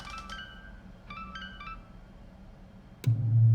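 A phone in the game Tell Me Why plays a short repeating ringtone melody in a few bursts, then goes quiet before a sudden low musical swell cuts in.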